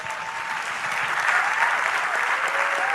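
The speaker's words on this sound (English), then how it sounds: "can you imagine that people are actually clapping" Audience applause from a played recording, a dense, steady crackle of many hands that swells slightly and holds for the whole stretch without any voices on top.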